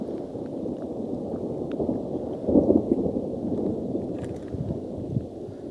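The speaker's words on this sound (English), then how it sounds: "We're actually walking into a thunderstorm" Rain and gusting wind during an approaching thunderstorm on a countryside walk near Nottingham, a steady close rumbling wash with a slightly louder burst midway and scattered drips.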